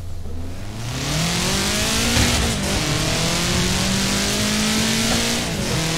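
A Subaru driven hard in the Forza Horizon 4 video game, its engine rising steadily in pitch as it revs and accelerates, loud and continuous with a faint hint of tire squeal.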